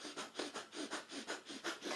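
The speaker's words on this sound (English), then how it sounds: "So this is our panting breath through the nose, just through that right nostril." Rapid breath of fire through the right nostril: quick, rhythmic panting exhalations, about four per second, soft and close, with no talking.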